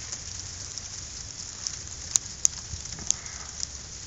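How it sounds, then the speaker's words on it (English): Sleet falls outdoors in a steady soft hiss, with a few sharp, distinct ticks of pellets striking nearby. "I don't know if you can see that, but that's sleet"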